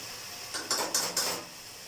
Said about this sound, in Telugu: ఉల్లిపాయలు మాడకుండా కలుపుకోవాలి కొద్దిగా ఇలా.